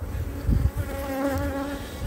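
Honeybees swarm around an open hive colony late in the season, a steady close buzzing drone with shifting pitch and a brief louder bump near the start.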